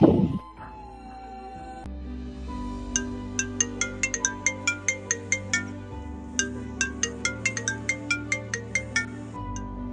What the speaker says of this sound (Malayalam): നിങ്ങൾ ആ ഫോൺ അടിക്കുന്ന കേൾക്കുന്നില്ലേ